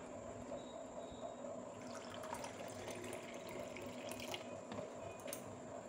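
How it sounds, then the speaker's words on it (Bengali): Water is poured from a cup into a pot while making lebu malai, a soft continuous splashing trickle under a steady background hum, fairly quiet and with no talking. "আর 1 কাপ জল দিয়ে দিলাম"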